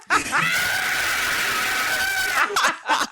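A woman screams during childbirth, one long sustained cry at full intensity lasting nearly three seconds, followed by a couple of shorter breathy shrieks at the end.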